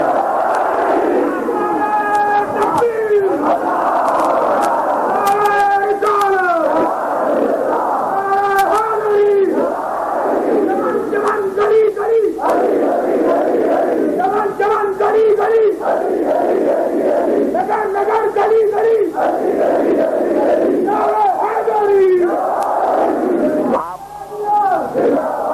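A large crowd chants a slogan in loud unison, repeated several times in rhythmic bursts, with voices swelling together over continuous crowd noise.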